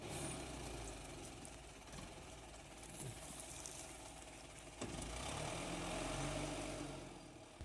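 An LKT Trstena skidder tractor hauling freshly felled trees in the woods runs with a steady, rough engine drone that swells louder near the end, with no talk.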